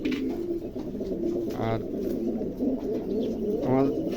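Pigeons coo in low rolling calls, two distinct coos standing out over a steady background murmur, with a brief spoken word in between.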